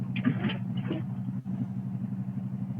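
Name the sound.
car noise in the background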